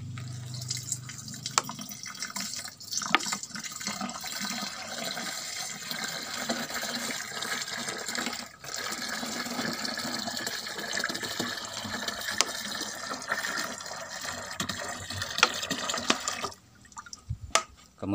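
Liquid urine, 1.5 litres, pours into a plastic jerrycan in a steady splashing, gurgling stream with a few drips, stopping near the end as the pouring finishes.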